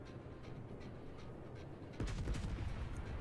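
Warship guns firing in the World of Warships naval combat game: a constant low rumble that jumps to a louder, heavier booming roar partway through, with no talking.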